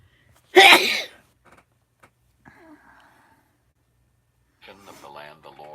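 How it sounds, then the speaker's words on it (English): A single loud, close sneeze bursts out, followed by quiet breaths and a few soft murmured words. "I gotta sneeze"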